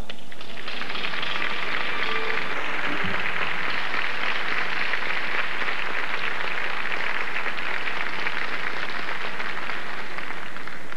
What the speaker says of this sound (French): Seulement des applaudissements